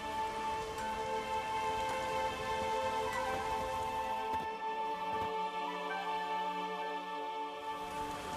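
Steady rain falling in The Witcher 3: Wild Hunt, a constant even hiss of drops on surfaces that runs through the whole stretch, fairly loud and close with faint game tones underneath.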